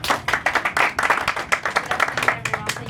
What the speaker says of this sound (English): So if you'd like to give a round of applause,